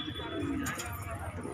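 Madrasi and high flyer pigeons cooing in a loft, soft low throaty coos over a steady background hum, with a person talking nearby.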